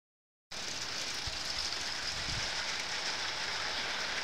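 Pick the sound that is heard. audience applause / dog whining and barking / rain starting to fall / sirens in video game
rain starting to fall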